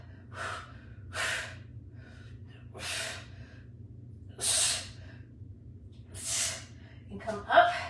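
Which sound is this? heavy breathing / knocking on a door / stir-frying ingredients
heavy breathing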